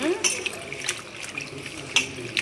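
Gongura leaves being washed by hand in a vessel of water: irregular splashes and sloshing bursts, close and moderately loud, with faint background noise between them.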